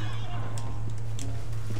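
Horse hoofbeats from a galloping mount during a race in the Red Dead Redemption 2 video game, a quick steady patter under a constant low hum, with a voice talking over it.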